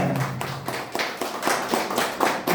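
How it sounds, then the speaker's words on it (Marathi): Loud applause from a gathered audience at a business meeting, a dense run of claps rising in bursts for over two seconds with no talk over it. "जोरदार टाळ्या"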